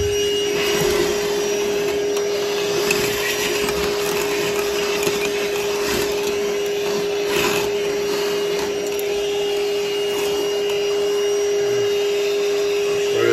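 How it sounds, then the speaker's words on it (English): Vacuum cleaner running steadily while cleaning out a furnace heat exchanger, a loud constant whine and roar with slight scraping variations throughout. "Now we're gonna vacuum it."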